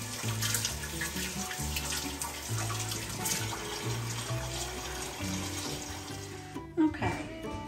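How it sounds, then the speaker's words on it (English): A kitchen tap running steadily while hands are washed, a soft continuous water stream close by with faint background tones and a small clunk near the end. "Now, wash my hands again."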